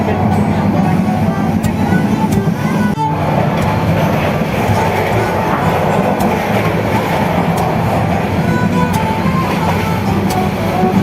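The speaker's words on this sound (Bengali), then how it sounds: "যেহেতু এটি একটি ননস্টপ ট্রেন এবং ট্রেনটি আর কোথাও দাঁড়াবে না" Sonar Bangla Express, a nonstop train from Dhaka to Chittagong, running on its tracks: a loud, steady rumble with rattling carriages and occasional sharp clicks from the rails, continuing without a break.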